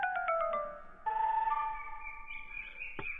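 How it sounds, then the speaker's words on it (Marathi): A phone rings with a tonal electronic ringtone while a call is being placed, a steady mid-level melody of sustained notes with no talk over it. "सूरज भाई ना फोन करते मी."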